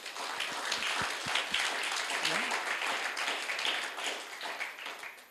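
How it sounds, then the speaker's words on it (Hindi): Congregation at a youth conference session gives a round of hearty applause, many hands clapping in a steady wash with a few distinct claps and brief voices mixed in, fairly faint overall. "हम सब एक बार ज़ोरदार ताली हम सब आपस में बजा लें"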